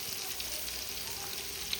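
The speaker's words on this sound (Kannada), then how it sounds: "ಈ ಥರ ಫ್ರೈಗೆ ಇಡಬೇಕು." Chicken pieces frying in hot oil for homemade KFC-style chicken, a steady, even hiss of bubbling oil with a few tiny pops, quiet and brief.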